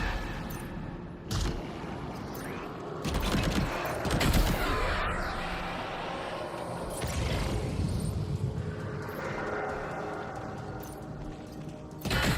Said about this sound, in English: Maybe I can use my silent assault rifle.